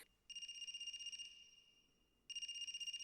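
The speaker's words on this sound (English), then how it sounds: "Is that a phone ringing?" A phone rings inside the video game AI: The Somnium Files, an electronic tone sounding in two loud bursts split by a short pause, with no talk over it.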